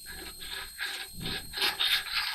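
A carbide parting tool for woodturning is rubbed back and forth flat on a diamond sharpening surface, making a steady, close, gritty rasping in repeated strokes with no talk.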